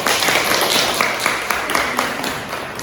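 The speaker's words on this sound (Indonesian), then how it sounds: "Beri aplaus untuk kelompok 4." A classroom of students applauds a presenting group, a dense burst of clapping at close range that holds steady and fades slightly toward the end.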